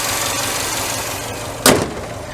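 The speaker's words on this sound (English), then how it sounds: "That's the engine." A 2008 Subaru STI engine idling, a steady mid-level rumble heard alone with a short sharp knock or click near the end.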